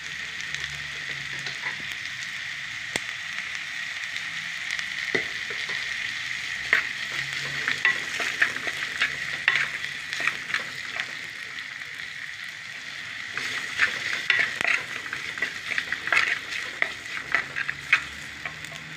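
Sliced onions sauté in a pan with a constant bright sizzle, punctuated by intermittent stirring clicks and scrapes that grow busier toward the end.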